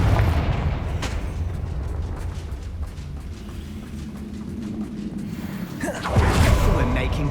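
Confringo fire-blast spell bursting in Hogwarts Legacy combat, heavy booming blasts over a dense rumbling mix of battle effects, with a strong hit near the end; voices talk through the action.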